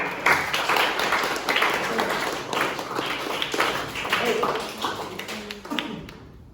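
A classroom group claps for the best discussion group, a burst of scattered hand claps from many people that lasts several seconds before fading out, close by with some murmuring voices underneath.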